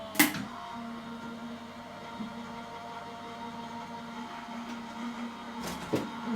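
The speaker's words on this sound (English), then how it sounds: "I'm just going to run that through my machine." A manual die-cutting machine for cardmaking feeds card between its plates with a steady mechanical hum and a low grinding roll, and a few sharp clunks and clicks come near the start and end.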